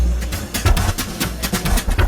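Two mismatched music loops play at once, clashing into an unmusical jumble of out-of-sync beats and tones, steady and fairly loud with no voices.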